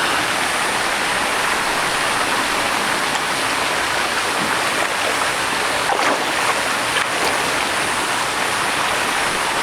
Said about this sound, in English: There's a waterfall that comes down right here, a water slide.